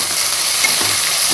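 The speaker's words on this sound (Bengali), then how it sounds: "এটার মধ্যে দিয়ে এবার লো ফ্লেমে একটুখানি নুন আর একটু মিষ্টি দিয়ে এটাকে ভাজতে হবে" Chopped onion with a little salt and sugar frying gently in a pan over a low flame makes a soft, even sizzle and hiss up close, with no one talking.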